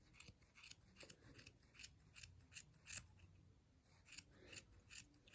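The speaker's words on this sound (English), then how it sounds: "you just start cutting" Scissors snipping through yarn to trim a crochet pom pom on a baby hat, a steady series of close, crisp cuts repeating roughly every half second.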